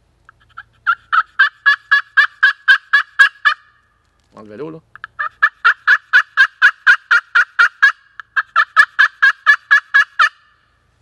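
Rapid bursts of turkey yelps from a Buck Expert Tough Grip friction call, two long runs and a shorter one, loud and close, with a brief low scrape and a few words between.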